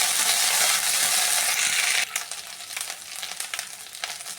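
Ginger garlic paste and chili powder frying in oil in a pan, a loud steady sizzle that drops to a quieter crackle halfway through, with light scraping and stirring.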